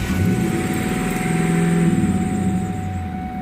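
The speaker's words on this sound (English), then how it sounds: "kind of crank up the car" A 2002 Ford Mustang GT with a newly replaced IAC valve cranks up and settles into a steady, loud idle, its low engine rumble holding evenly throughout without talk.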